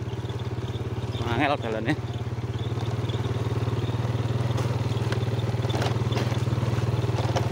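Motorcycle rolling slowly along a rough forest road between Wonogiri and Ponorogo, its engine a steady close low putter with light clatter, while someone speaks briefly early on.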